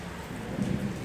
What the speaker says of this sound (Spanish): ¿y por qué empezó a llover ahorita que va a terminar el culto?